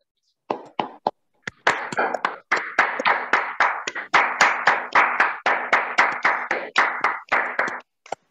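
Audience clapping at an event honoring Trilokchand Chhabra comes in rhythmic unison bursts, a few scattered claps first and then a long run of steady, evenly spaced group claps.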